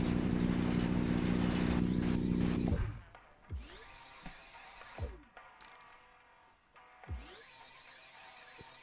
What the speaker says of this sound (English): This should now power all the drill heads.